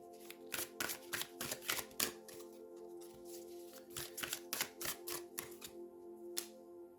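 Oracle cards shuffled by hand, a run of close, crisp riffling clicks in uneven bursts over several seconds, fairly quiet, with no speech.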